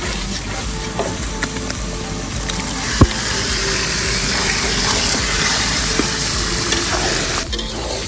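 Chicken pieces go into a tomato spice masala in a hot pan, giving a loud, dense, continuous sizzle with scattered stirring clinks and a sharp knock, close up without talk.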